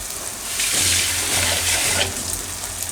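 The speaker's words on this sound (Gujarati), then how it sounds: "હવે આમાં આપણે થોડુંક પાણી નાખીશું" Water is poured into a pan of cooking tomato gravy for sev tameta shaak, a loud splashing gush that swells for about a second and a half, then eases back to a softer trickle.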